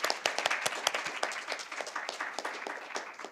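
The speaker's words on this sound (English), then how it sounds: "let's have another round of applause" An audience claps for several seconds after the final round of a first-year law school mock trial competition, a dense burst of many hands with individual sharp claps standing out and no talking.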